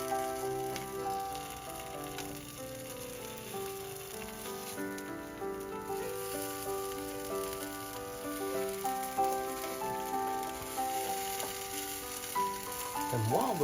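Quesabirria tacos pressed flat and frying in a pan give off a steady, dense sizzle that holds evenly at a moderate level throughout, with no talking.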